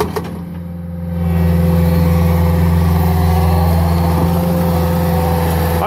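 A Caterpillar tracked skid steer's engine runs loud and close, starting lower and then rising into a steady, heavy drone that holds for several seconds. There is no talking.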